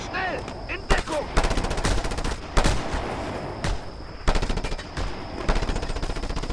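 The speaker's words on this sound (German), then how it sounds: "die ballern schon wieder" Dense bursts of automatic gunfire from enemies in the video game Just Cause 2, rapid overlapping shots and volleys that keep going without a break, loud and close.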